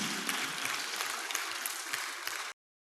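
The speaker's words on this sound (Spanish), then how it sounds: "Fuerte aplauso a aquel que vive por los siglos de los siglos." A church congregation applauds, a steady dense wash of clapping from many hands that cuts off abruptly after a couple of seconds.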